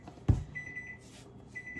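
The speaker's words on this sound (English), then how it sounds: "That timer is for our pasta." A kitchen timer for boiling pasta sounds in a home kitchen: a thin, steady high electronic tone that rings briefly, stops, then starts again near the end, with soft thumps of kitchen activity around it.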